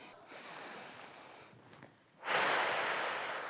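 Long, audible breaths during a breathing exercise, one drawn-out airy inhale followed by a brief pause and then a second, louder, rushing breath, heard close and alone with no talk.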